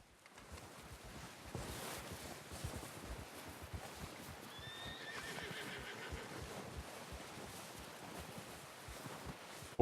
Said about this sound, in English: Horse will respond to your calls as long as it's in range.